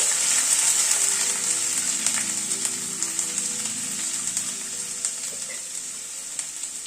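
Garlic frying in a pan for Bengali mutton kosha, a steady bright hiss of hot oil that fades slightly over time, with faint occasional spatula clicks, close and continuous.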